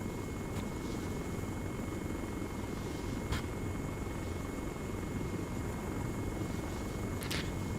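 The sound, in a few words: transport helicopter flying in video game Arma 3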